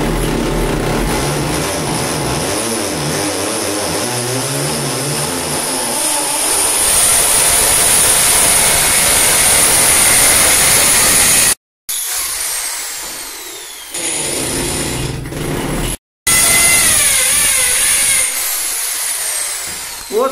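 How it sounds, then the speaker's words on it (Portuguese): Rotary hammer drilling into a wall to mount a tempered glass shower enclosure in a bathroom, a loud continuous whining roar that runs for long stretches with brief stops and restarts. "Aí joga com o martelete."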